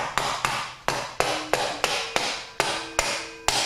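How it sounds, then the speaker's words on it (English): A small plastic hammer tapping a part down during a transmission rebuild, about eleven sharp, close taps at an uneven rhythm, each with a short ringing decay. "I'll take this little plastic hammer, kind of tap it down."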